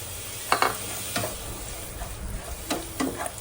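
Chicken pieces fry with salt and coriander-cumin powder in a pan for homemade chicken pickle, a steady low sizzle broken by a few sharp stirring scrapes and clicks of a spoon.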